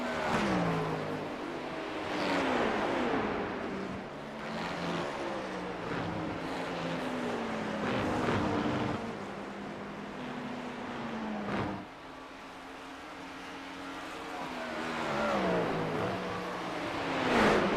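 Porsche racing cars in a sim racing game roar continuously at close range, engines rising and falling in pitch as they accelerate and shift, with a brief dip near the middle before revving back up.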